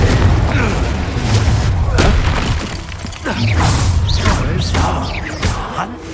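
Confringo blast spells in Hogwarts Legacy combat, a series of loud booming explosions with shattering debris and impact thuds, spaced irregularly across the fight amid game sounds and voices.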